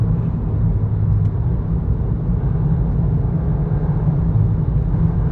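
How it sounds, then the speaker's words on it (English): A 2023 VW Golf R Mk8 with a 320 hp engine and DSG gearbox accelerates to overtake, heard from inside as a steady, loud low rumble of engine and road noise without any clear rise in pitch. "Okay, I need a chance to overtake this car."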